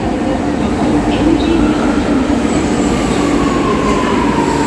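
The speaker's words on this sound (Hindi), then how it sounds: "यहाँ हमारी मेट्रो आ गई है।" A metro train pulls into a station with a loud, steady rolling rumble, faint wheel squeals and a rising whine as it approaches and slows, heard close up.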